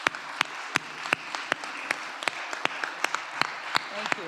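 Graduates at a winter recognition ceremony clap for their support teams in the room, with a crowd's applause carrying through and sharp, loud claps ringing out near the microphone at a steady rhythm.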